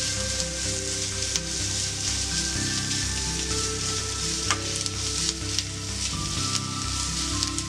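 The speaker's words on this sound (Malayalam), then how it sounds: "അതൊന്ന് ഒരു ബ്രൗൺ കളറ് ആകുന്നത് വരെ ഒന്ന് വറക്കുക" Chopped large onions, about a quarter cup, sizzle and fry steadily in a pan for a Bangalore-style thattukada chicken masala, a dense continuous crackle with occasional stirring clinks, close and alone.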